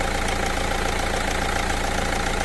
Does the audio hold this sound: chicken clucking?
no